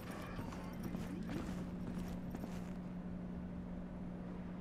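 Horse hooves clip-clop steadily in the Cyberpunk 2077 video game under a constant low background hum, moderately loud and close.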